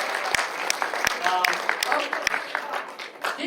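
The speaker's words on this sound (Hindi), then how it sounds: "तालियां।" Audience applause at an E-9 workers convention in Korea, a dense wash of clapping with a few sharper individual claps standing out, steady and moderately loud through the whole stretch, with some voices mixed in.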